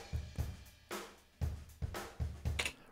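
Drum room microphones, tailored and processed, carry a kit played in a roomy space, with repeated kick and snare hits ringing into ambient wash and a brighter cymbal burst near the end, no voices.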